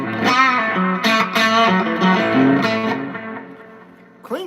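An electric guitar played through a Fulltone 69 Mark II fuzz and a Retrosonic analog delay, producing thick, sustained fuzzy notes and chords with echoing repeats that fade toward the end.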